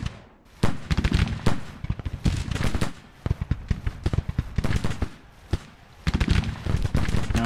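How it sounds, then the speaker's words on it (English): Civil War brigade musket volleys and artillery blasts crackle in the Grand Tactician strategy game, sharp overlapping reports in irregular bursts with brief lulls, loud and near. "Start firing into the flanks of these two brigades that are moving at me."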